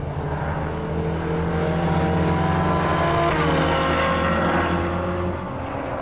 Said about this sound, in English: We are driving today 488 GTBs and 812 Superfasts on track